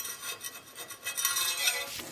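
A homemade scraper rasps across a metal welding table, knocking off dried paint droplets in a run of short, gritty strokes that grow steadier and louder toward the end, close and alone.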